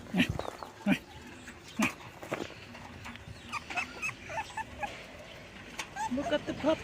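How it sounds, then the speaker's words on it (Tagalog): Several puppies whimper, yip and give short barks close by in a home setting, high thin cries coming in irregular bursts, with a person talking between them. "Look at the puppies!"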